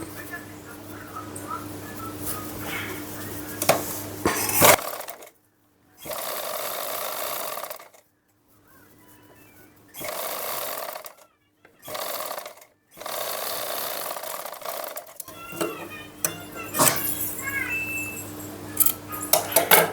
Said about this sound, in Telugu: మళ్ళీ ఇక్కడ సైడ్ అయితే కుట్టు వేసుకుందాం